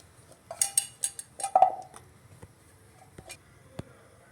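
A few light clatters and soft knocks of chopped vegetables dropped into a metal pressure pan, close by, followed by scattered small taps.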